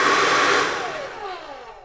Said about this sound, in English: This is the Avanti Turbo hair dryer.